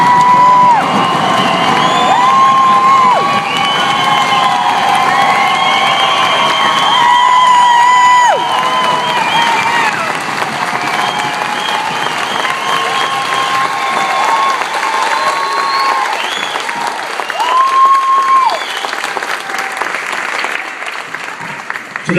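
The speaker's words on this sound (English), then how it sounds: "giving a thunderous round of applause for the Army's newest soldiers" A crowd at an Army basic training graduation ceremony cheers and applauds the newest soldiers, a loud sustained roar of clapping with whoops and shouts rising throughout.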